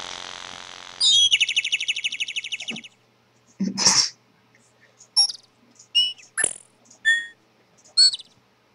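Bird tweet sound effect placed in a Rosegarden music track: a fast trilling chirp for about two seconds, then a series of separate short tweets and calls, clear and close with silence between them.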